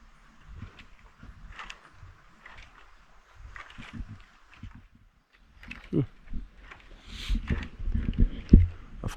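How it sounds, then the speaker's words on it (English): A zip-line trolley runs along its cable in a Costa Rica rainforest canopy, making mechanical rattling and whirring that grows louder and nearer toward the end, with faint voices and scattered background sounds. "I can hear a zip liner coming."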